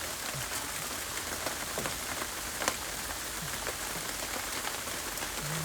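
Steady heavy rain pours onto surfaces outdoors while gutters are being fitted on an old house, a dense continuous hiss with scattered louder drops and faint clatters throughout.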